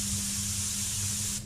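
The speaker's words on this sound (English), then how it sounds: "We're spraying the base coat at 24 psi." A Sagola 4600 DVR spray gun lays down automotive basecoat on a door at 24 psi, giving a steady, close, loud hiss of compressed air and atomized paint that holds unbroken and cuts off right at the end.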